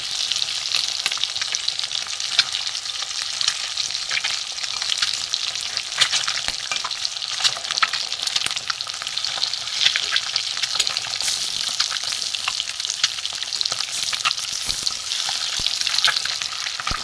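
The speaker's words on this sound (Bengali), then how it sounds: "উল্টে পাল্টে ভেজে নেব, উল্টে দেবো।" Halved eggs frying in hot oil in a pan for a potato and pointed gourd egg curry, giving a steady, dense sizzle that runs the whole time with faint scraping as the pieces are turned over.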